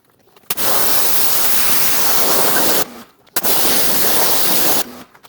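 Water sprays steadily onto a car tire during a tire-cleaner rinse, a loud hissing rush in two long bursts separated by a brief pause.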